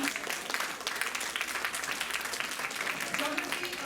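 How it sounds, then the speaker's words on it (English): An audience applauds students at a National Science Day 2025 event, a dense, steady wash of many hands clapping that fills the whole stretch at moderate loudness without letting up. "Please give a big round of applause for these students"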